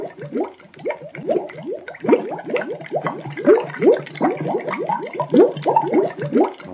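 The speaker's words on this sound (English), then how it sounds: "This is like an aquarium bubbling." Continuous rapid bubbling and gurgling, like air pumped through water, steady and fairly loud with no voices.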